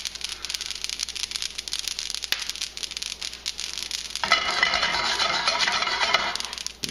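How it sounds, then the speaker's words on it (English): Whole spices toast in a hot pan with a dense, steady crackle and sizzle, then louder scattered pops and ticks near the end. "We'll allow those to continue to toast and to pop for just about another 15 seconds."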